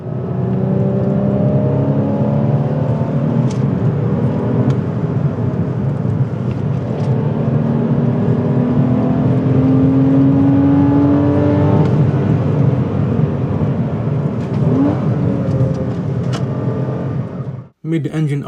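A Porsche Cayman or Boxster 981 naturally aspirated mid-mounted flat-six revs and accelerates, with rising and falling whine through gear changes, loud and continuous as if recorded from a moving car, ending abruptly.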